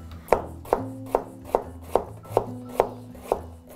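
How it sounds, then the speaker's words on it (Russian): A knife chops beetroot on a board in eight sharp, evenly spaced strokes, close and clear with no talking. "мы постараемся соблюсти правильность нарезки свеклы в этот раз"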